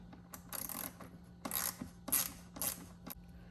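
Torx T20 driver backing out retaining pins on a 2018 Tesla Model 3 display, giving several short bursts of close mechanical clicking and ratcheting spaced over a few seconds against a quiet low hum.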